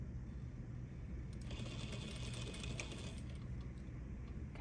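Sewing machine stitching a quilt block with backstitching, a faint rapid mechanical whirring and ticking that starts after a moment of quiet room tone and runs steadily, with no talk.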